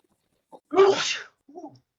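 A single sharp sneeze, close and loud, with a small intake of breath before it and a soft sound after.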